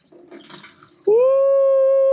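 A tap turned on at good pressure, a short rustle of handling, then a sudden strong steady rush of running water with a tonal whine from the plumbing, close and loud, no talk.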